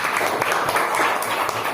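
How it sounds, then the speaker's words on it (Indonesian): A room full of people claps steadily and continuously, a dense wash of applause throughout. "Tepuk tangan buat kelompok 4."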